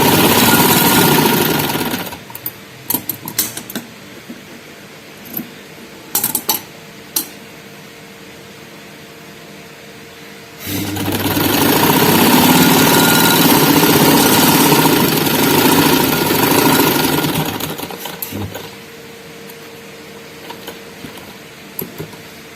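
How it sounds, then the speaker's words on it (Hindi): An electric sewing machine stitches a gathered frock: two short motor bursts are followed by one long, steady, loud run of about eight seconds, then quieter handling noises. No one speaks. "उसके बाद इसको फुल खींचेंगे और सेंटर में एक सिलाई लगा"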